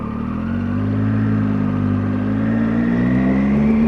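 A motorcycle engine labours up the steep Bealach Na Ba (Applecross Pass) in first gear, a close, steady mid-pitched drone that climbs gradually in pitch and loudness without a break.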